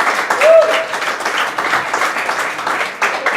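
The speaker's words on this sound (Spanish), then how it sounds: "quisiera que le diéramos un gran aplauso a Daniel por estar aquí con nosotros" An audience gives sustained applause for Daniel Salinas Basave at a talk, steady clapping throughout with a brief voice tone near the start.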